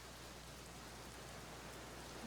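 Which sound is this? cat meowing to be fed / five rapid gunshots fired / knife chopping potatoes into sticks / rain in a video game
rain in a video game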